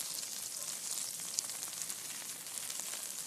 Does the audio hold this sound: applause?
no